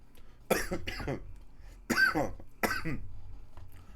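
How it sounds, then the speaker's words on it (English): Three separate coughing bursts, close and fairly loud, with short quiet gaps between them. "I'm coughing from the horrible, horrible air that is American"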